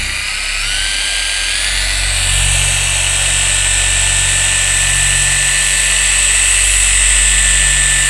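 A Dino Kraftpaket 74mm eccentric polisher runs at medium speed, producing a loud, steady, high-pitched motor whine with a constant low hum, uninterrupted and close to the microphone.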